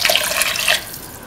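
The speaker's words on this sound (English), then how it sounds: "Pour in 250 ml of water." Water pours in a splashing stream into a cauliflower and split chickpea curry stew, loud for a moment before easing off to a quieter trickle.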